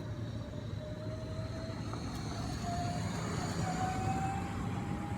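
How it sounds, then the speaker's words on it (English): A security vehicle drives past outside, a rising, steady rumble of engine and tyres that grows slightly louder toward the end, with a faint whine over it. "sorry, security was driving by"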